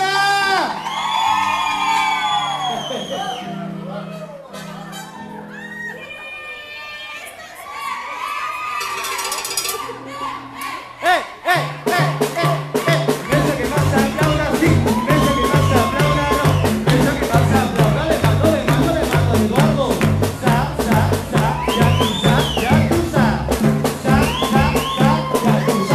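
A crowd at a live cumbre band concert in a venue, shouting, whooping and cheering loudly over the music, which stays dense and strong throughout.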